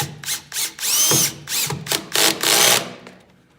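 A power drill drives screws into a wooden nuc quilt box in a string of short whirring bursts with brief gaps between them, close and loud, with no talking.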